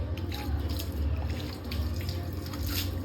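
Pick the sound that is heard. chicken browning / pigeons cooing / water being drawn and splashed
water being drawn and splashed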